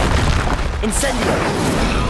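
Incendio fire spell cast in Hogwarts Legacy: a dense, roaring burst of magical flame and booming impact that fills the whole clip at steady loudness.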